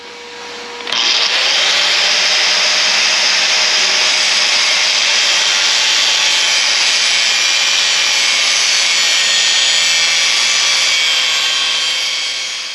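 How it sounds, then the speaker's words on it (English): A metal piece is cut off while building a mount for a 5 lb propane tank on a camper. A loud, steady cutting whine starts abruptly and runs without a break for about twelve seconds, close up, with no talking. "We're just going to go cut this off right here."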